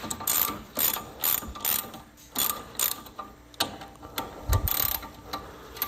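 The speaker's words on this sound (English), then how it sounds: "I don't have the right socket, but a 14 mil socket seems to fit just fine" A hand ratchet fitted with a 14 mm socket loosens a brake bolt on a Mercedes, giving short bursts of rapid, close clicking separated by brief pauses, with no talking.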